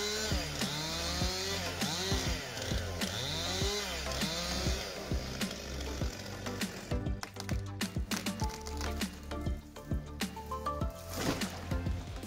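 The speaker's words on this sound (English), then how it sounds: "A modern chainsaw that takes on the challenge of cutting down giant trees with precision and power." Modern chainsaw cutting down giant trees: the engine revs up and down repeatedly in a loud, rising-and-falling whine. Harsher cutting and cracking follows near the end.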